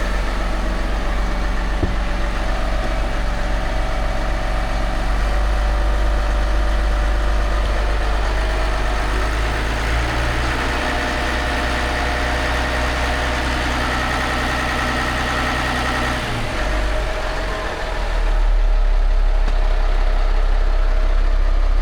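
A boat engine idles steadily after injector cleaner was added, its deep, even rumble running loud and continuous with a brief dip in pitch near the end.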